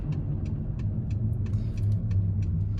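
Mercedes-Benz Vito 114d 4x4 van driving, heard from inside the cabin as a steady low engine and road rumble with faint periodic ticking, even and unbroken without speech.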